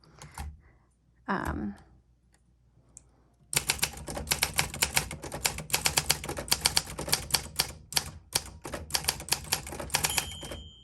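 Rapid, steady clacking of a 1958 Olympia SM3 manual typewriter's keys, close and crisp, starting after a brief quiet stretch with a short voice near the beginning.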